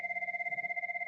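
A telephone rings with a steady electronic warble, two sustained tones pulsing rapidly and evenly for about a second, fairly loud and clear with no voices over it.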